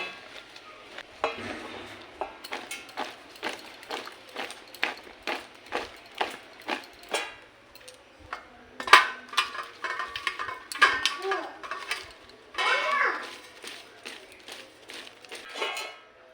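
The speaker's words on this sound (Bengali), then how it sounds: "ভালোভাবে মিশিয়ে নিচ্ছি" Raw mango pieces are tossed and mixed with salt and turmeric in a bowl, giving repeated soft scraping and clinking strokes in an irregular rhythm, close and fairly quiet.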